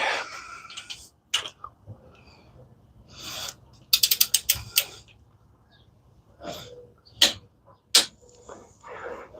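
A square-drive socket wrench with a deep 15 mm socket clicks in quick ratcheting bursts while bolts on a Hemi 5.7L engine are torqued, with sharp separate clicks and pauses in a quiet garage.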